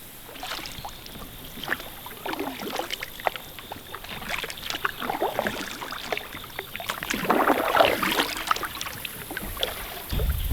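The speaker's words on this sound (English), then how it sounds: "They get put on paddle duty." Paddles dip and pull through water beside a small fishing boat, irregular splashy strokes and drips close by over faint wind, growing busier toward the end, without speech.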